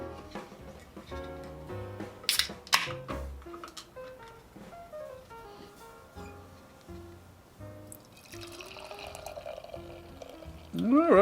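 Cracking open and pouring an Alewife Prophecy of Three IPA: a sharp crack and hiss near two seconds, then a long pour under background music, ending in a bright rising fizz of carbonation.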